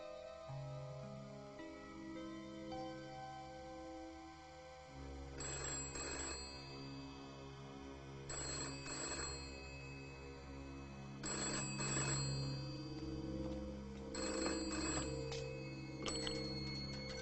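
An old-fashioned telephone rings in repeated double bursts, five rings spaced a few seconds apart, fairly quiet and set over a sustained musical score in an animated film, with no voices.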